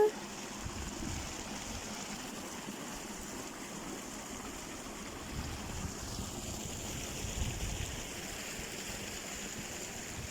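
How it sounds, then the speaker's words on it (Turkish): Steady broadband rush of water streaming across a sandy beach near Antalya, continuous and fairly close, with wind buffeting the microphone and no talk. "Bak su akıyor kumsal."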